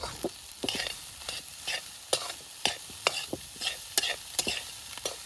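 Egg fried rice tossed and mixed in a pan over an outdoor wood-fired chulha, a rhythmic series of close scraping, clattering spatula strokes over a continuous sizzle.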